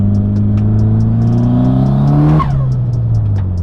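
A turbocharged Mitsubishi Lancer Evolution VIII engine revs hard under acceleration, its pitch climbing steadily for a couple of seconds, then easing off with a burbling exhaust as the driver lifts.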